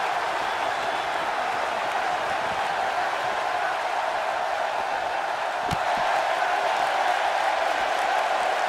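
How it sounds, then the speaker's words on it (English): A virtual arena crowd in the wrestling game WWE 2K18 roars in a steady, dense wash of cheering that holds evenly throughout, with no voices standing out. "And by the sound of this crowd, I don't think he's the only one feeling that way."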